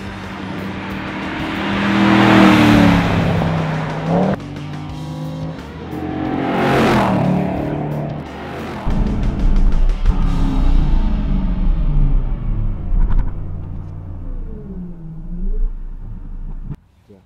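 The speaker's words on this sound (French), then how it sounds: "Grégory Watley va très vite prendre la mesure de l'Aston Martin GT4 et faire tomber les chronos." An Aston Martin GT4 race car driven hard on a track, its engine revving and accelerating loudly with shifts and passes, plus a rumbling drone and some distant sound underneath.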